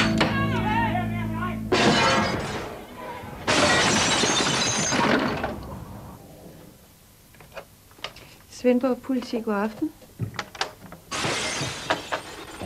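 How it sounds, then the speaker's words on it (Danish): A man smashes up an apartment, with loud bursts of glass shattering and crashing amid scattered clattering and thuds, while people talk and a telephone voice answers. "Han smadrer jo hele lejligheden."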